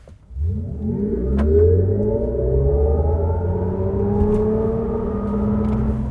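A 2023 Mercedes-Benz EQS SUV plays its synthetic Silver Waves drive sound inside the cabin, layered tones that rise and sweep upward together as the car accelerates, loud and steady, with no talking.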